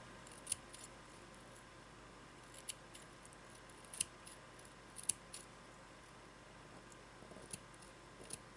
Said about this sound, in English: I will simply take the scissors and cut the cord end this way.